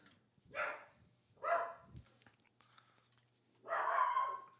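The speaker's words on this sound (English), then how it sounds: "That dog." A neighbors' dog barks three times at a distance, short separated woofs with quiet gaps between, faint and alone.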